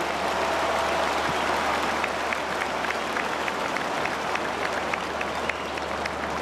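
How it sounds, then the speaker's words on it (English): A big stadium crowd at the 2023 All-Ireland hurling final between Limerick and Kilkenny applauds referee John Keenan and his officials, producing a continuous, loud wash of clapping with sharper individual claps standing out throughout. "Ladies and gentlemen, please give referee John Keenan from Ockram and his team of officials a round of applause"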